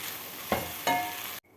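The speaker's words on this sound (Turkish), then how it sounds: "Kavurmaya devam ediyoruz." Vegetables and garlic sizzle and crackle in a hot pot, with two sharp stirring scrapes before the sound cuts off abruptly.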